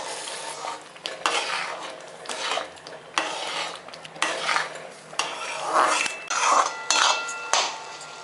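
Semolina for rava kesari being stirred and roasted in a pan, a steady scraping of spoon against metal with faint sizzling, in uneven repeated strokes close up with no voices.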